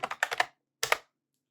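Quick keystrokes on a computer keyboard, a short burst of about six clicks followed by a brief pause and two more taps, close and crisp.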